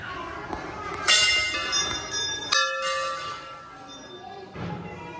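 A bell at a Bhairav temple rings out several times, bright metallic strikes with long humming decay, sounding close amid a faint background murmur.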